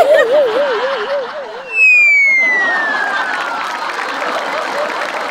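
An audience at a Marathi comedy show game round breaks into applause, a steady wash of clapping and crowd noise that swells after a brief whistling tone and holds for several seconds.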